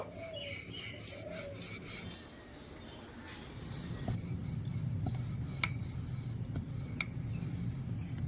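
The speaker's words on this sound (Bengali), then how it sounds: "এবার পাতলা করে রুটিটা বেড়ে নেব" A rolling pin works flour dough thin for nimki with soft, steady rubbing strokes, quiet and close, on a calm background.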